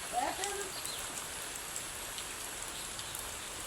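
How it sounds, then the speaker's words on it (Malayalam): Morning rain falling steadily on surfaces, a faint, even patter throughout with a few brief chirps near the start. "രാവിലെ തന്നെ നല്ല മഴ കേട്ടോ"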